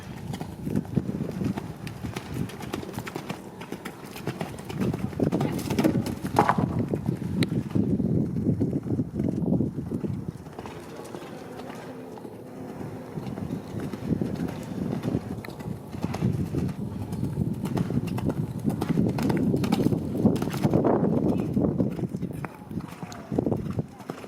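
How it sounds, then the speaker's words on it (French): A horse cantering during show-jumping training, hooves drumming in a steady three-beat rhythm close to the microphone, with wind buffeting and someone speaking over it at times. "le galop que tu contrôles, travaille dessus"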